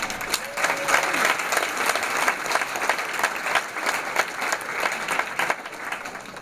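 Warm, sustained applause from an audience at a college scholarship awards ceremony, many hands clapping steadily with a few voices faintly mixed in.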